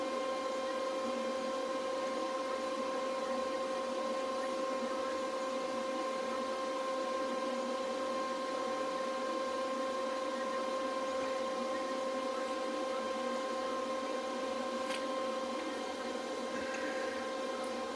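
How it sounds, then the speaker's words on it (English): A steady cooling fan hum from an AC-to-DC power converter in a school bus conversion, with a constant tonal whine, drones on without change for the whole stretch, fairly faint and even. "that noise you're hearing in the background is the fan to my AC power to DC power converter"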